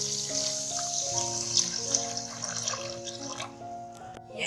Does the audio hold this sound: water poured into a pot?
yes